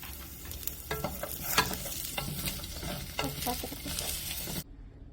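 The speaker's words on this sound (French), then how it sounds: "Ajoutez les morceaux de gingembre ainsi que la gousse d'ail coupée et mélangez." Chopped ginger and garlic sizzling in a pan while being stirred, with a steady fry hiss and scattered scraping stir strokes, close and alone until it cuts off near the end.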